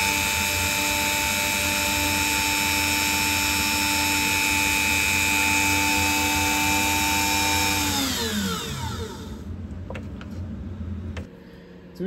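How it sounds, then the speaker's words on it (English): A Dremel rotary tool with a fret slot routing bit runs at a steady high whine while cutting fret slots during a 1953 Gibson L-50 guitar restoration. It holds loud and even, then spins down in a falling glide near the end. "it's the little fret routing bits for a Dremel, fret slot routing bits"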